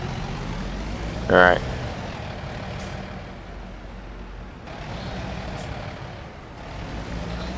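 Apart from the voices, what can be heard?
Volvo truck reversing in American Truck Simulator video game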